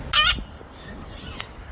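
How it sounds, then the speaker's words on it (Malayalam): A single short, harsh squawk from a parrot, likely one of a flock of Australian parrots seen on a morning walk, loud and close, followed by faint outdoor background sound and a brief distant chirp. "തത്തയാണെന്ന് തോന്നുന്നു."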